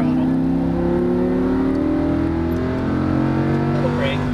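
A Lamborghini Huracan LP610-4 accelerates on a racetrack, its engine droning loudly and climbing steadily in pitch from up close, with a voice speaking over it.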